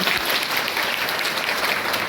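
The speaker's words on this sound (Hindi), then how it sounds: "बात अच्छी लगी तो तालियां तो बजाएंगे" Dense, even applause from an audience in a collectorate auditorium at an International Women's Day event, following a recited Hindi poem, continuous clapping filling the room at steady loudness.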